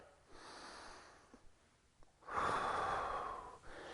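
During a yoga forearm plank, a person draws a short sniffing breath and then lets out a long, forceful, audible exhale through the nose, all up close with no speech.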